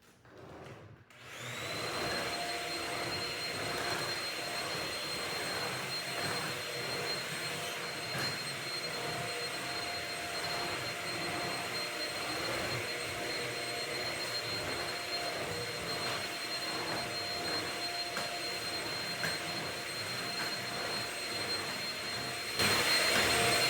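A vacuum cleaner drones steadily in a room during deep cleaning, a loud constant whine with a high tonal hum that starts after a brief moment and runs unbroken to the end.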